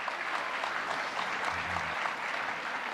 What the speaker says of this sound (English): I would love a quick round of applause for you all